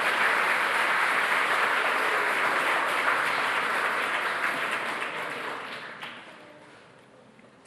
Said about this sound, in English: Let's give another round of applause for all of those winners tonight.